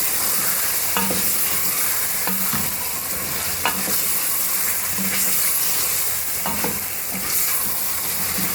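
Chicken with garlic-ginger paste frying on high flame in a pan, a steady loud sizzle broken by regular scrapes and clacks of a spoon stirring every second or so, with no voices.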